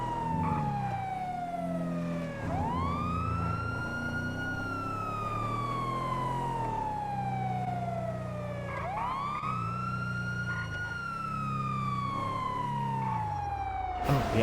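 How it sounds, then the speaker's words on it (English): Police car sirens in a Grand Theft Auto roleplay game wail in two long rising and falling sweeps, loud and steady throughout, with a faint low engine rumble beneath them. "Make sure you shut the sirens off."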